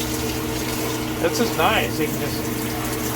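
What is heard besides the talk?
RV shower head spraying water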